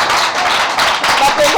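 Audience applause at a televised children's festival ceremony where participation certificates are handed out, a dense wash of clapping that holds steady and close for under two seconds.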